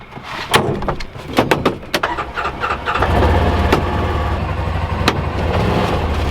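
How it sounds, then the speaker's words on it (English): A dump truck pulls up to haul rock to a muddy spot. Clanks and knocks give way to a steady engine drone that holds close and loud. "I think I hear the dump truck now."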